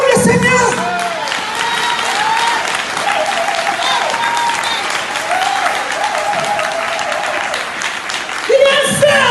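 A church congregation bursts into loud, sustained clapping and cheering for the Lord, whoops and raised voices riding over continuous applause, with shouts swelling again near the end.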